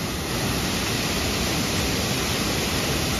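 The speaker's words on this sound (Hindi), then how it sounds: "ये देखिए भाई साहब, ये हमारा गंगोत्री विहार वाटरफॉल, क्या आवाज आ रही है।" Gangotri Vihar waterfall roars as a loud, dense, unbroken rush of falling water, heard close with no voices over it.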